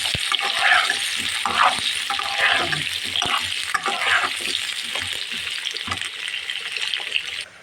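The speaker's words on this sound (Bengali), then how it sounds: "মিষ্টি কুমড়াটা একটু তেলে ভেজে তুলে রাখবো" Pumpkin pieces fry loudly in oil, a dense, close crackle and hiss with bursts of spattering throughout, fading slightly at the very end.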